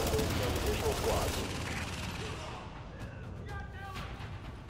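Bursts of rapid gunfire and explosions in a noisy Tom Clancy's The Division soundscape during the Grand Central Terminal mission, with a voice speaking over the action.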